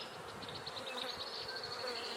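Honeybees buzzing around an opened backyard hive during frame handling, a steady close drone of many bees with a few louder individual passes and no speech.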